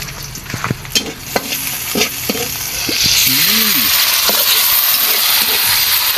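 Bottle gourd sautés with canned sardines in a pan: scraping stirs and clinks over a sizzle that swells into a loud, steady hiss halfway through, close up, with a brief voice-like tone in the middle.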